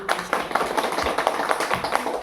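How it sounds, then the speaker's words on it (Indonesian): Elementary school audience at SD Negeri 3 Sarimarrihit clapping steadily in a dense, continuous patter, with voices mixed in underneath. "Tepuk tangan dulu untuk kita"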